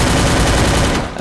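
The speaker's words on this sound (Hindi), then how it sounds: "अभी वहाँ से वो दूर से मतलब गोली चलाया जा रहा था" Gunfire in a PUBG-style battle royale match, a dense, continuous burst of rapid shots filling the whole moment with loud, steady crackle and no voices.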